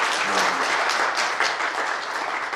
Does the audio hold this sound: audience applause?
yes